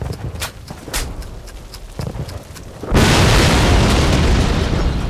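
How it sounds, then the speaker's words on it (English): Explosives detonating in a Call of Duty video game: scattered booms and pops of distant battle, then a sudden loud blast at about three seconds that leaves a sustained roaring rumble of debris. "Explosives, go! Stand back! Fire in the hole!"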